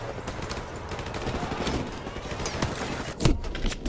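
Gunfire in Call of Duty Modern Warfare Remastered, a video game: continuous, dense shooting layered with a noisy battle background, and one stronger crack near the end.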